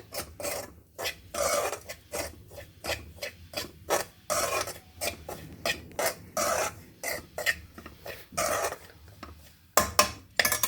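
Semolina (rava) being roasted in a pan, stirred with a spoon in quick repeated scraping strokes that rasp against the metal in an uneven rhythm, close up and with no talking.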